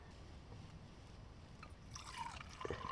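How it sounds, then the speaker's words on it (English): Boiling water poured from a camping kettle into a cup and an Aeropress at a wild campsite, a soft close trickle that grows into a louder splashing pour over the last second. "as I pour boiling water all down my front."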